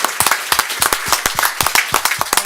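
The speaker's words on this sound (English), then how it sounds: "Big round of applause for everybody here." Close, brisk applause from a small group of people at a school district board of trustees meeting honoring Gold Seal Award winners, with rapid individual claps standing out clearly and no talk over them.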